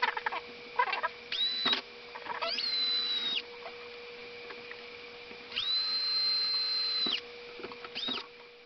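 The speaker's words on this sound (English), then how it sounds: "I'm going to take the appropriate size drill bit and drill all the way through the bottom of the case where the mounting posts go." A drill bit bores through the bottom of a Commodore 64's plastic case at the mounting posts, giving several whining bursts of a couple of seconds each with quieter gaps between, close and fairly faint.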